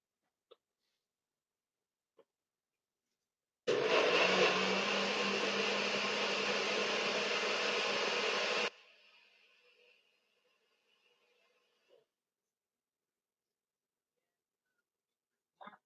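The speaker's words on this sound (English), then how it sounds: "I need to go blend this, and my blender is, of all places," Household blender blending fruit into a thick smoothie in a bathroom, a loud steady whirring burst lasting about five seconds that then stops abruptly and fades, with quiet stillness before and after.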